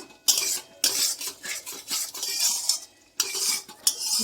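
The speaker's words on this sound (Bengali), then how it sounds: "দিয়ে দিচ্ছি ফেটানো টক দই। এটা ভালো করে একটু কষিয়ে নিতে হবে।" Whisked sour yogurt is stirred into a masala in a pan for paneer curry, a near run of rhythmic spoon scrapes and clinks against the metal with a light sizzle underneath, pausing briefly twice.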